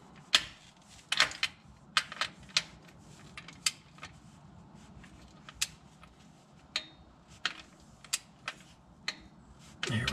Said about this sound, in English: Back with a torque wrench. 27 foot-pounds again.